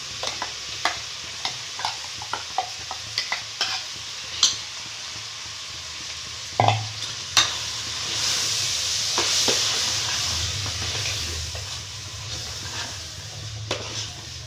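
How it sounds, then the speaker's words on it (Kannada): Ground sambar masala added to heating vegetables and hasi alasande beans in a pot, a series of spoon taps and scrapes followed by a rising steady sizzle and hiss, close and moderately loud, with no talk. "ಈಗ ಈ ಮಸಾಲೆನ ಇಲ್ಲಿ ಬಿಸಿ ಮಾಡೋಕ್ಕಿಟ್ಟಿರೋ ತರಕಾರಿ ಕಾಯಿ ಜೊತೆ ಹಾಕ್ತಾ ಇದ್ದೀನಿ"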